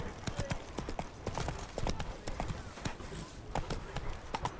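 Roach, Geralt's horse in The Witcher 3, galloping with a quick, steady clip-clop of hooves, close and continuous, with a voice speaking briefly over the hoofbeats.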